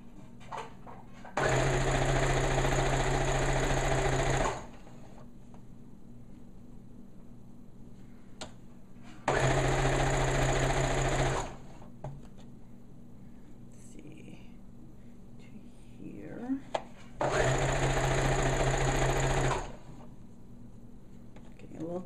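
A sewing machine stitches the hem of a store-bought dress being made into a bellydance costume, running in three loud bursts of a few seconds each, separated by quieter pauses with soft handling noise.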